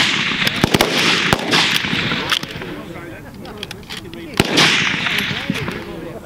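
Reproduction Swedish CG63 target rifle in 6.5x55mm firing at a 200 m snap match on an outdoor range, with sharp cracking shots, some in quick clusters and others isolated, over a hissing backdrop with faint voices.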